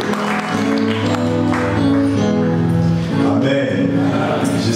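A church congregation applauds during a French-language service, steady clapping blended with voices and music throughout, fairly loud and filling the room.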